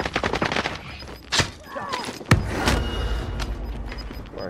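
Gunfire from the Call of Duty: Warzone battle royale, with bursts of shots and sharp single cracks, one loud near blast mid-clip, set against game noise and faint talk.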